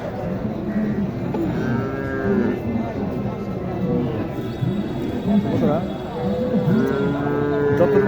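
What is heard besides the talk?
cattle mooing at a cattle market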